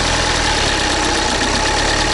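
A Skoda Octavia engine rumbles loudly and unevenly at close range, rough and knocking, with no voices over it.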